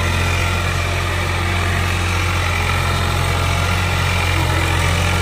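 An old tractor engine idling steadily with no drop in revs, a loud continuous low throb with even rumble throughout and no voices.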